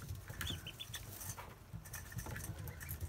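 Ducklings born within the past day give soft high peeps and chirps in a quick scattered chorus, close by and fairly quiet over light background rustling.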